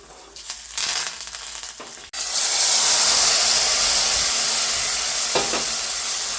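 Quiet stirring gives way to a sudden loud sizzle as mustard seeds and fenugreek hit hot oil, then a steady crackling hiss continues.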